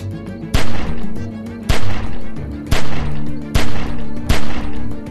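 Video game gunfire in The Walking Dead 400 Days: five heavy, loud gunshot blasts at roughly one-second intervals, each with a booming tail, and no talking.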